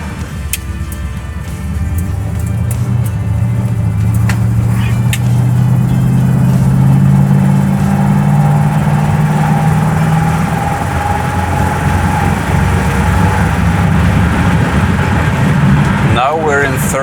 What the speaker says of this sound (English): With full throttle, it's slightly pulling to the right side